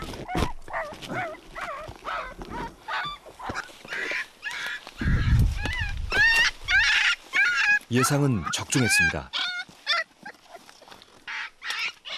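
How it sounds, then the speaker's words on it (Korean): Frightened feral dog puppies, pulled from a den under tree roots, cry loudly in repeated high, wavering yelps and whines. The cries come close and alternate with bursts of human speech. "겁에 질린 새끼는 세상에 태어나 가장 세차게 울부짖습니다"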